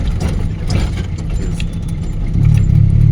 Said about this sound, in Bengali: 2 নম্বর গিয়ার শিফট করো, 2 নম্বর।